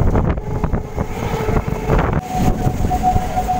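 A train rumbles along near National Highway 12 at Bethuadahari with steady low-frequency noise and wind buffeting the microphone; a faint tonal whine emerges toward the end.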